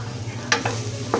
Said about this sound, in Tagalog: ayan po ang ating giniling. Unti-unti po siyang naluluto.